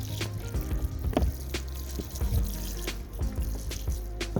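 Water is poured onto a small potted succulent garden, giving a close, steady trickle and splash with scattered drips over a few seconds.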